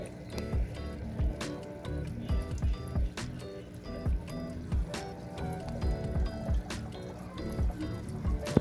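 Aerator bubbling and trickling water in an outdoor koi tub holding tuxedo koi and ghost shrimp, a steady run of small splashes and drips close by, with no voices.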